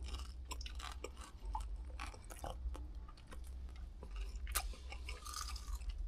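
Freshly made lumpia spring rolls with cheese being chewed close to the microphone, crisp wrapper crunches and bites repeating steadily over a low rumbling background, no voices.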